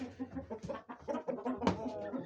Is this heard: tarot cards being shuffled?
no